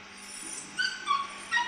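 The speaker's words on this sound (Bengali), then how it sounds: "ওর একটু রিয়াকশন দেখবো যে অন্য ডগ কাঁদলে রিও কি করে।" A golden retriever whimpers indoors in three short, high-pitched whining bursts that rise over a soft, steady background hum.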